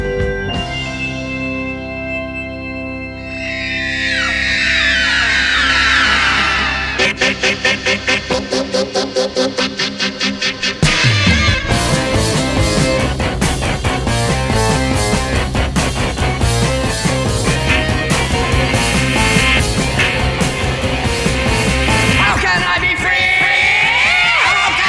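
A progressive rock passage: dense, loud layered instruments with sustained tones, then a rapid pulsing section and a full, busy ensemble swell that continues to the end, no voices.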